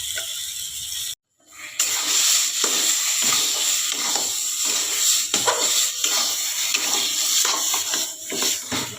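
Rice flour batter fries and sizzles in hot mustard oil for a vegetarian jackfruit curry, with a steady hiss broken by stirring scrapes and a brief silence near the start.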